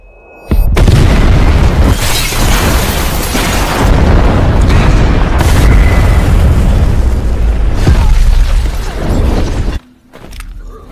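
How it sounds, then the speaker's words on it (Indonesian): A huge explosion in an action film: a loud booming blast swells into a sustained roaring rumble for several seconds before cutting off abruptly. "Dan setelah ledakan hebat itu"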